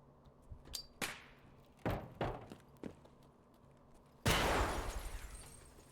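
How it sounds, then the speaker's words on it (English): A tripwire flashbang going off in the Escape From Tarkov video game, a few sharp thuds and clicks followed by one loud, bright blast that hisses and slowly fades. "Was that a tripwire with a flashbang?"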